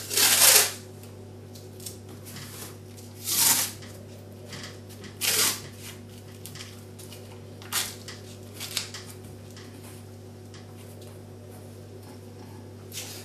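Masking tape on trench model bases ripping off the roll in a few short, sharp tearing bursts, with quieter taps and presses as it is stuck down, close up over a steady hum.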